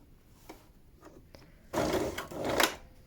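A sewing machine stitches face mask fabric in short bursts, a faint tap or two and then a louder whirring run near the end, close by with no talking.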